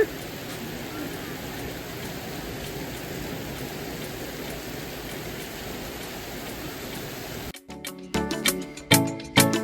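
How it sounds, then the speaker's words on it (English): Steady heavy rain hisses and patters continuously, then gives way to louder, uneven rustling and knocking bursts near the end. "It just started raining even harder."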